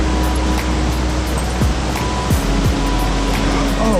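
Water pouring over a weir on a flooded river, a constant loud rushing roar close by, with no talk.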